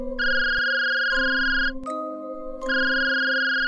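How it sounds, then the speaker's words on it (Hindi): An electronic phone ringtone plays a loud, repeating tonal melody in two bursts with a short pause between them. "तभी उसके फोन की घंटी बजती है।"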